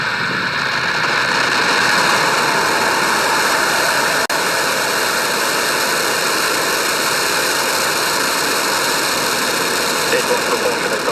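A SpaceX Falcon 9 rocket at liftoff, heard from a distance in DeBary, Florida, gives off a steady, broad rumbling roar that holds constant throughout.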